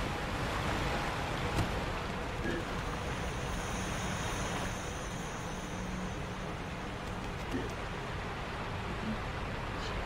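A waterfall in the video game Sekiro: Shadows Die Twice gives a steady, even rush of water noise at low level, continuous and unbroken.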